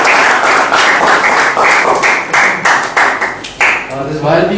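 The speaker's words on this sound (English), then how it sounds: "Abhijit, please, give a big round of applause." A youth program audience breaks into a full round of applause, loud and close, with dense clapping that stays steady before tapering into a few scattered claps and murmured voices.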